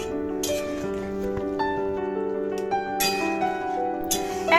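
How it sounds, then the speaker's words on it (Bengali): A spoon clinks and scrapes in a pan as fried eggplant is mixed into a vegetarian curry of drumstick and potato, with soft repeated metallic taps over a faint steady background hum, no talk. "এখন ভেজে রাখা বেগুনগুলো এর মধ্যে দিয়ে দিয়ে সমস্তটা আবারও ভালোভাবে মিশিয়ে নিচ্ছি"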